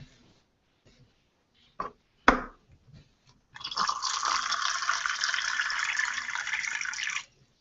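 Spring water is poured and splashed in a sustained rush lasting several seconds, preceded by a few clinks and taps from a cup, all close and fairly quiet, in a water kefir brewing setup.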